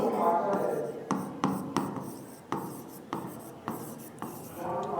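Marker or chalk strokes writing a name on a board, a series of close rubbing scratches with sharp taps at each new stroke, fairly quiet and with no voices.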